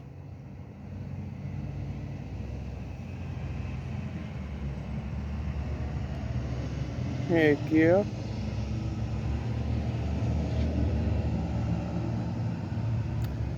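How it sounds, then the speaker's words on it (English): A big school bus rumbles past outdoors with a steady low engine drone that swells gradually, while someone talks over it and a brief bird chirp cuts in. "yeah, here comes the big bus."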